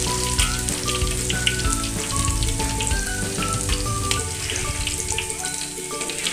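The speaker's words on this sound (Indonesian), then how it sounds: "Kita goreng minyak yang banyak." Leeks and celery frying in plenty of hot oil, a steady dense sizzle with popping crackles, close and continuous throughout.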